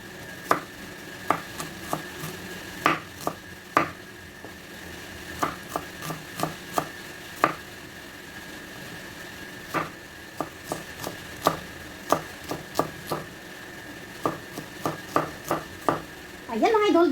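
Onions chopped on a board for menudo, a string of crisp knife knocks in uneven bursts over seventeen seconds, close and clear against a quiet background.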